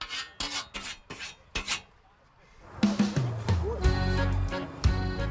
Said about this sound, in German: Heute muss Brigitte ihre Sägesse besonders scharf wetzen